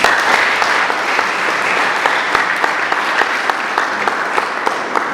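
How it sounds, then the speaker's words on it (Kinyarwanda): An audience claps for students receiving certificates at a leather-goods training graduation. The applause is dense, sustained and even, with many crisp individual claps and no pause throughout. "Nagira ngo munteze amashyi tumushimire."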